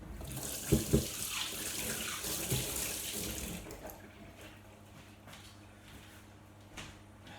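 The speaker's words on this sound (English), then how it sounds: "Get my hands to wash here." Tap water runs into a kitchen sink as hands are washed, a close, steady splashing hiss that cuts off partway through, followed by quieter clinks and movement.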